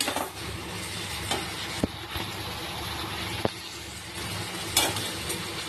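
Spice paste fries in oil while being stirred for a fish curry with pointed gourd, a steady sizzle broken by scraping knocks of the spoon against the pan; a voice talks faintly in the background.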